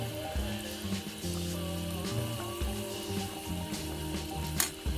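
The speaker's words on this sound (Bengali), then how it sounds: "এই নিমকিটা ভাজার সময় কিন্তু হালকা আঁচে ভাজতে হবে" Nimki snacks fry in oil over low heat with a steady, dense sizzle that runs the whole time. A few faint clinks come through under it, and no one speaks.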